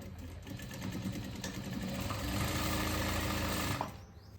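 A sewing machine runs in a steady rapid stitching rhythm while a salwar waistband is sewn, close and fairly quiet, holding a continuous whir before stopping near the end.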